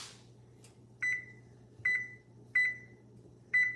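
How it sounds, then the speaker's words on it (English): An oven timer being set for baking bagels gives four short, clear electronic beeps at an even spacing over a quiet low hum. "we're gonna set the timer for 20."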